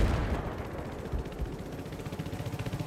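Rocket artillery fire rumbles through a 10v10 Conquest match on the Zavod map, a steady low, rolling barrage of booms and pops pulsing continuously at moderate loudness with no talk over it.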